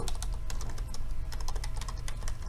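Fingers type a sentence on a computer keyboard, a quick, uneven run of close, crisp key clicks with no talking.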